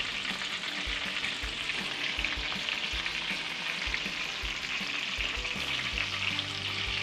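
Ribeye steak fat sizzles steadily in a hot frying pan with a dense, continuous crackle, broken by soft low knocks and scrapes as the meat is moved, close up and without speech.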